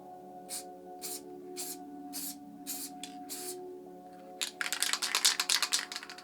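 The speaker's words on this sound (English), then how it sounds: "So when I spray that in a small area, there's going to be a lot of overspray off it." A Montana Black spray paint can fitted with a fat cap hisses in a series of short, regular bursts, then breaks into a louder, denser run of rapid sputtering sprays close by, with a faint steady hum underneath.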